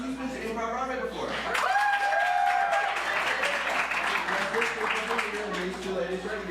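Applause and cheering from the audience at an improv theater show, with a steady wash of clapping and a brief whistle early on and voices mixed in.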